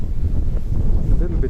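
Gusty wind blows steadily outdoors on a Tokyo street walk, a low continuous rumble of wind buffeting the microphone throughout.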